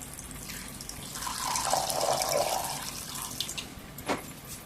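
Water pours steadily into a bowl of tamarind pulp, a soft splashing stream that swells in the middle and ends with a short splash.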